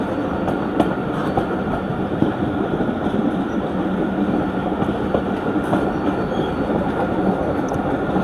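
The Marvi Express passenger train in Pakistan rolls steadily along the rails below its posted speed limit, with a loud continuous rumble and a faint rhythmic clatter of wheels heard from on board.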